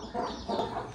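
A hen clucks in short soft bursts, two or three quiet clucking phrases at close range with no talk over them.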